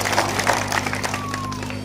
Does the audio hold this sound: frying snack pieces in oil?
no